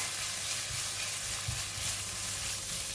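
Minced pork frying in a pan with a teaspoon of light soy sauce, a steady soft sizzle under a few muffled thumps of stirring, close by, with no voices.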